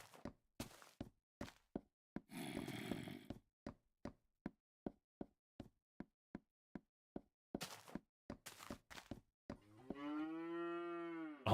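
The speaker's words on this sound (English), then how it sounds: "Oh my god, the fucking cow." A Minecraft cow lets out a drawn-out, wavering moo near the end, preceded by a steady run of sharp knocks and thuds and a burst of scrambling noise, all close and alone with no talk.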